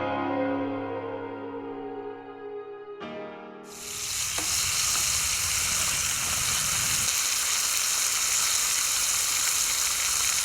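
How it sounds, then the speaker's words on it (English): Bacon sizzles loudly and steadily in a pan over a campfire, a dense crackling hiss that starts abruptly after a few seconds of quieter tones and continues without pause. "You can't beat the sound of sizzling bacon, indeed the smell of it, over a campfire."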